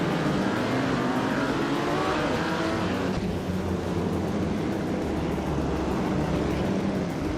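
Race cars battle on a track in a continuous, loud, dense engine roar with overlapping revving and no break, close and unrelenting throughout.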